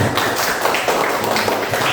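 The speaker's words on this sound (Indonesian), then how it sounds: "Tepuk tangan." A classroom of students applauds after a group presentation, with a dense, steady patter of many hands clapping at once for about two seconds, fairly loud and with no talk.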